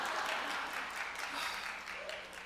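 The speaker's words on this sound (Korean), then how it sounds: "뭐가 좋다고 박수치고 야단이야." A church congregation at a dawn prayer service applauds in a soft, diffuse wash of clapping that sounds distant and steady and slowly fades, with no clear voices over it.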